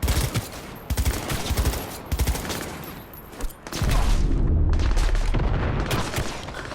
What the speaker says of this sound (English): Did they shoot the grenade midair?